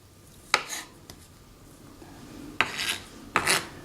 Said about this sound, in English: I'm just cutting it into 1/8 to 1/4 inch thick slices